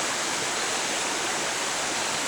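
Cold spring water pours out of a hillside near Donaldson Cave, a dense, steady, close rushing hiss with no pauses.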